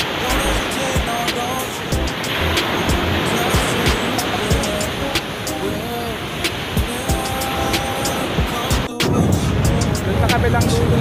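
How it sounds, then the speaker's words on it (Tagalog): Loud, constant wind roars across the microphone along with the wash of sea waves, a dense, rushing noise throughout with no clear talk. "Lalo yung malakas ng hangin at saka alon."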